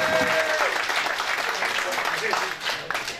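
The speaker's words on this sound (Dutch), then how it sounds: "graag een applaus voor de dochters van Jan van Ede" Steady applause from spectators at an indoor futsal tournament, a dense, continuous clapping with crowd murmur and brief voices mixed in, easing slightly toward the end.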